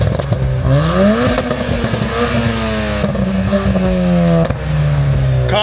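A tuned 320 BHP Ford Fiesta ST and 270 BHP K24 Honda Civic: one engine revs hard and accelerates, its pitch climbing in steady gear-like steps, loud and close, with the other engine droning underneath.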